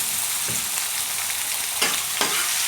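Garlic, onion and fresh tomato frying in a pan, a loud continuous sizzle close up with a few brief stirring knocks.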